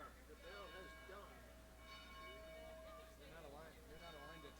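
A faint church bell rings with lingering metallic tones while people talk over it.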